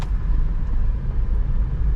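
A 2019 Honda BR-V 1.5 V automatic's engine runs with a steady, loud low rumble, close and continuous, with no talking over it.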